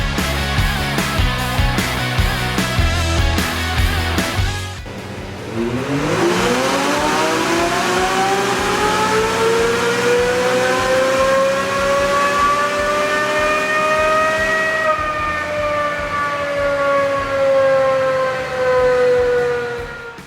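A 2021 Can-Am Maverick X3 Turbo RR in stock form runs on a dyno, its engine holding a low idle before climbing into a long, loud, steady rev that rises in pitch and then holds high until it cuts back near the end.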